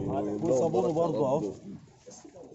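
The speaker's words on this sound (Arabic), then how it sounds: "اه الحمام ده حمام بالصلاه على النبي رمايات كله." Pigeons in a tall rooftop loft in Ezbet El Borg, Damietta, Egypt, give soft throaty coos that are mixed with and partly masked by someone talking nearby.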